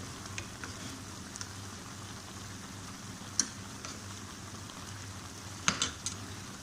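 Chopped onion and ginger-garlic paste sizzling steadily in a hot pan while cooking goat liver for Eid, with a few light clicks and taps of stirring over the continuous frying hiss.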